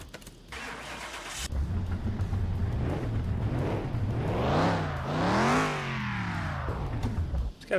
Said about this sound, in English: let's fire this car up